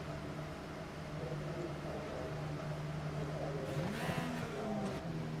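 IndyCar race car engines droning together at a rolling start in the iRacing sim at World Wide Technology Raceway, a steady low hum that swells briefly as one car revs nearby.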